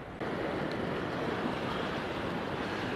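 Ocean waves wash into the small harbour of Guéthary on the French Atlantic coast, a continuous broad, hissing surf roar with some wind, moderately distant and steady throughout.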